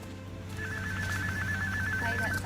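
A mobile phone ringtone chirps in a steady repeating pattern, moderately loud over a low electrical hum and background murmur at an accident scene where a crew is tending to an injured woman.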